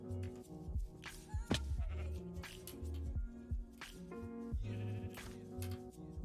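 Sheep bleat in the game Minecraft, several short bleats heard among layered game music and other sound effects, fairly quiet overall.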